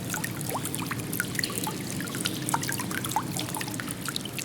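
An art installation in a gallery gives off a steady trickle of flowing water with scattered drips and small splashes, soft and continuous throughout, with no voices.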